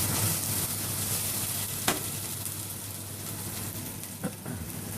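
Ginger and garlic frying in oil in a pan for a broth, a steady soft sizzle throughout with a couple of brief stirring clinks, close and alone without talk.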